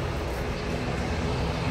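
US-Bangla passenger airplane coming in to land, heard from a nearby spot just below the approach path: a steady, broad engine roar, moderately loud and unbroken over a short stretch.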